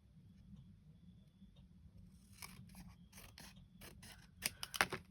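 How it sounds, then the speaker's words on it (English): Scissors trim a small edge of paper for a nautical journal, a run of crisp close snips that grows louder and quicker toward the end, after a quiet start. "So now I'm gonna have to trim that just a teeny bit, I think"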